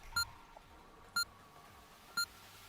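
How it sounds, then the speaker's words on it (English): Three short electronic beeps at evenly spaced one-second intervals, clean and fairly quiet, counting down the start of a Geometry Dash tournament match over a faint hum. "You're gonna hear a beep."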